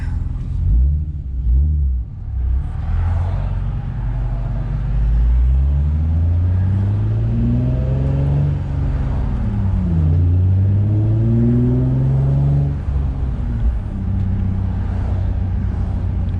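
A modified Infiniti G35 drives on a road, its engine loud and close throughout, revving up through gears with rising and falling pitch sweeps and a steady rumble, no talking.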